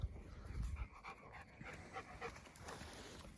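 A dog pants rapidly up close in short rhythmic breaths, with a soft low thump at the start.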